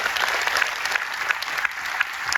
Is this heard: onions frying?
no